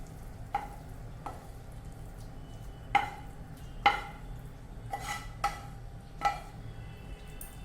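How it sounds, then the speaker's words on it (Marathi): A spoon stirring eggplant bharit in a pan, with several scattered scraping clinks against the metal over a low cooking hiss, close and moderately quiet, no talk. "थोडं मिक्स करते."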